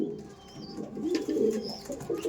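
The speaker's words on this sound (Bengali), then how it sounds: "এটা নর দেখাচ্ছি, আর এটা দেখাচ্ছি মাদি পায়রা" Kalanka pigeons, a male and a female kept in a home loft, give soft, repeated throaty coos that rise and fall close by, with no talking over them.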